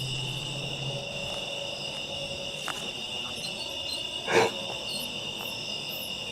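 Crickets chirp continuously at night in a cemetery, a steady high-pitched drone, with a faint metallic squeak and a brief rustle partway through; no one speaks.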